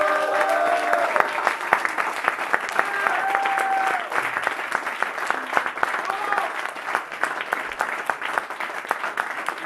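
An audience at a slam poetry final applauds the performers with dense, continuous clapping that keeps a fairly loud, even level throughout, and a few voices rise faintly through it.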